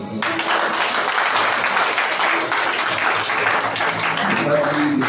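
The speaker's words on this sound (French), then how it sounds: "On peut acclamer le Seigneur." A church congregation at a Pentecost seminar claps and cheers to acclaim the Lord, a loud, dense, continuous wash of applause mixed with voices calling out.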